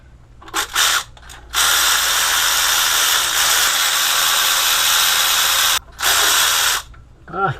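A power ratchet spins bolts out of the front cover of a Ford 5.4L engine in loud, close whirring bursts: a few short spurts, then one long sustained run, then another brief burst.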